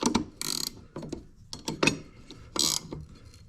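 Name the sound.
wrench tightening the bolt on an EGO lawnmower blade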